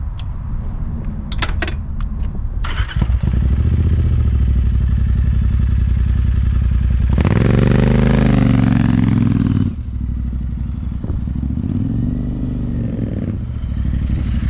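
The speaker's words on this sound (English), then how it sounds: "I'm going to ride a hooligan bike." A 2021 Royal Enfield Continental GT 650 motorcycle rides with a loud, close, steady engine drone, a few clatters near the start and a rising rev that swells and falls away midway before settling again.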